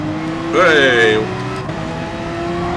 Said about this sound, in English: Lovely big kick of oversteer there.